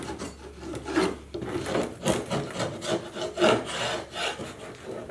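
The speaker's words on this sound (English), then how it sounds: "what I'm going to do real quickly is scrape this off" Old wax comb being scraped out of the groove of a wooden beehive frame, a steady series of rough, rasping strokes repeating close up with no talking.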